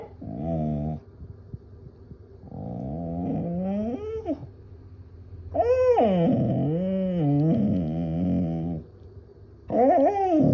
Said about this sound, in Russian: Собачка, да, там собачка бегает без тебя.